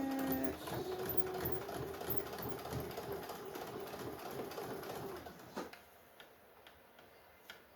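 A sewing machine back-stitches fabric for a stuffed bear, a quiet rapid ticking needle rhythm running for about five seconds before stopping, leaving faint room noise.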